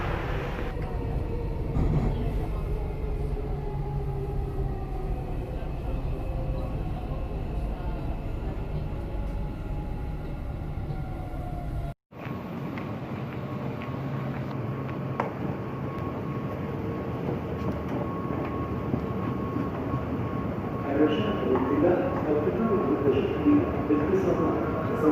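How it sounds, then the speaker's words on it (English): A Dubai Metro train runs toward Al Nahda/Abu Hail station, its steady low rumble and whine filling the carriage, with a sudden brief cut midway and faint tones near the end. "Just exiting the alnadaabuhail metro station"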